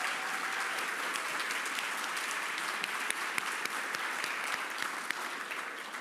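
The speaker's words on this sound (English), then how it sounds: "A round of applause for the Madam Mayor" Sustained audience applause for the mayor at a State of the City address, dense even clapping from a large crowd, fairly distant and steady throughout.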